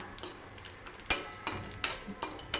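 A utensil stirs and scrapes dry fruits, cashews and almonds, roasting in ghee in a pan, with sharp clinks about every third of a second over a faint background, no talking.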